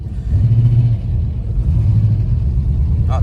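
A twin-turbo 5.7 engine on its first drive revs with a loud, close, deep rumble that rises and falls in uneven surges, unsettled and hunting for RPM.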